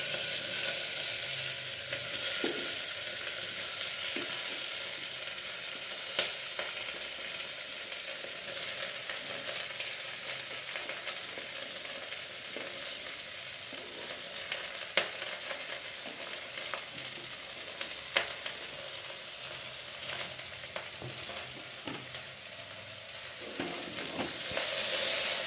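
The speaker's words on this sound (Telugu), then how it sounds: "ఇది చక్కగా వేగుతున్నాయండి" Chopped vegetables fry in hot sambar tempering in a pan with a steady bright sizzle. Faint clicks and stirring knocks sound now and then, and the sizzle swells briefly near the end.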